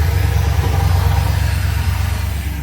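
A 1984 Ford E150 camper van engine idles steadily and close by, a low, even rumble with a pulsing throb held for the whole stretch, no voices over it.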